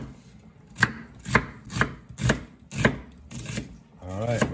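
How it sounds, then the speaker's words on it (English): Red onion being cut julienne style with a knife on a cutting board: about seven distinct, evenly spaced chops, close and moderately loud, over a quiet background. "I'm gonna cut up these red onion, julienne style."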